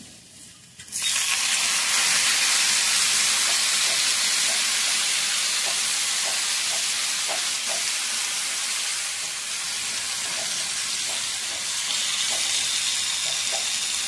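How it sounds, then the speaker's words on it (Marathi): Garlic frying in hot oil for a methi fry bursts into a loud, continuous sizzle after a brief quiet start, with occasional small pops and a stirring clink running through the steady hiss. "लसूण लाल व्हायला लागला आपला, बघू शकता तुम्ही"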